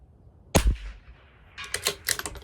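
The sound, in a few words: CZ 457 LRP rifle shots at 200 yards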